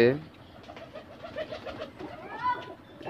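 Pigeons coo and murmur in a backyard coop and loft, a busy overlapping chorus of soft low calls that pulse steadily throughout, with a brief brighter call near the end.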